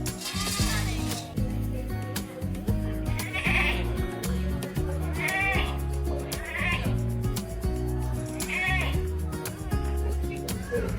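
Goats bleat at intervals over a busy, noisy county show background with music and crowd chatter.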